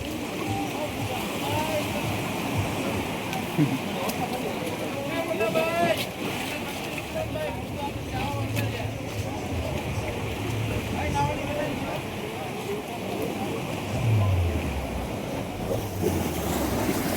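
Waves on the Gomati river at Dwarka lap and wash continuously beneath wind noise, with faint indistinct voices and boat sounds mixed into the moderate, steady background.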